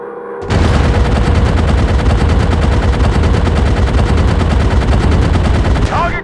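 Continuous loud machine gun fire from a WW1 fighter plane in the mobile game Warplanes WW1 Sky Aces, a steady rapid rattle of shots lasting several seconds over engine drone.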